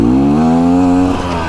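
A 2024 Beta Xtrainer dirt bike engine roars loudly and steadily nearby, its pitch rising slightly as it approaches, then dipping at the end.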